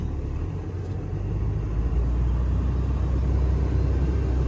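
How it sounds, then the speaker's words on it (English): A Cummins-powered truck running on summer tires spins its wheels in deep snow, giving a steady, close engine rumble and whirring drone that holds constant throughout with no talk. "Definitely spinning some tire."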